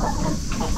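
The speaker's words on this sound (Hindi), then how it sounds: "ये कंत्री मुर्गी है या देसी?" Desi country hens clucking on a farm, short soft clucks in a brief busy stretch, heard close with farmyard noise around.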